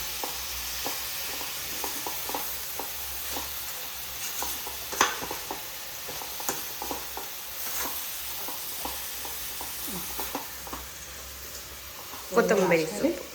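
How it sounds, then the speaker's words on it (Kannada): A spiced mixture is stirred in a hot pan, with a steady sizzle and repeated scraping strokes, and a brief voice comes near the end. "ಹಸಿ ವಾಸನೆ ಹೋಗೋವರೆಗೂ ಚೆನ್ನಾಗಿ ಮಿಕ್ಸ್ ಮಾಡಿ"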